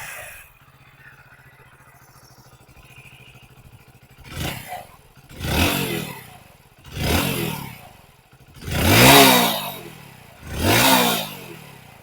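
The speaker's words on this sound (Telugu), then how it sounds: "సో ఇది అయితే ఎగ్జాస్ట్ నోట్." A 2024 Hero Splendor Plus 01 Edition motorcycle idles quietly for about four seconds, then its exhaust barks through five sharp throttle blips, each rising and falling, close and loud.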